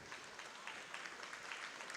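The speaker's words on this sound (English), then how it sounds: "let's give a round of applause to all of those who received a minor award first" A short burst of steady applause from a crowd at a high school awards evening, even and sustained, with no voices standing out.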